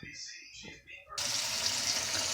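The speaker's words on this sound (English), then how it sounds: "I'm just going to put some water in the bowl with the meat." Tap water runs into a bowl holding raw pork meat being cleaned for cooking, a steady close splashing rush that starts abruptly midway and continues loudly to the end, after quieter kitchen noise.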